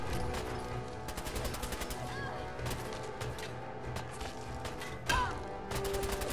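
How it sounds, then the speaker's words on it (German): Rapid bursts of gunfire in the video game Fallout 4 crackle in repeated volleys over a dense, noisy backdrop, with sharp shot-like transients scattered throughout. "Aber der zweite Schuss sitzt."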